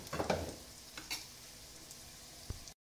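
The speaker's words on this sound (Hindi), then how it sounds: "अब हम इसे मिक्स करेंगे" Yogurt being stirred into chicken for Bombay biryani, a short wet scraping and stirring with a faint sizzle, a few soft clinks of the spoon against the pot, no talk.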